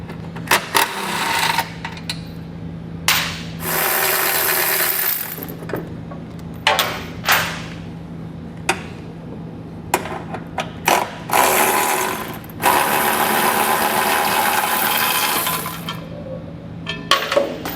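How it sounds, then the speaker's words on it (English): An 18mm socket on a ratchet removes the four tow hook bolts from a 2020 Nissan Pathfinder, giving bursts of loud metallic ratcheting clicks and clinks close by, separated by short pauses, with no talking. "So we'll take an 18mm socket, remove those 4 bolts so we can remove the tow hook."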